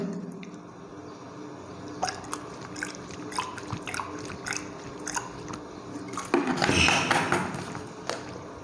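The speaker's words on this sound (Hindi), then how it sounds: "तब तक मैं थोड़ा सा पानी पी लेता हूं।" A man takes a drink of water indoors. Faint clicks and small liquid sounds lead into a louder swallowing gulp near the end, close to the microphone, with no speech.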